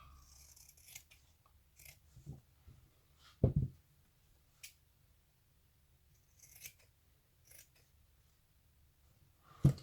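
Sharp scissors snip through fabric in a quiet sewing session, a handful of separate crisp cuts spaced irregularly, with one louder cut near the middle and another at the end.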